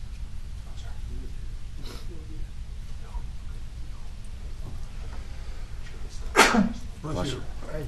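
A single short sneeze bursts out partway through a planning meeting, loud against a steady background hum with faint shuffling.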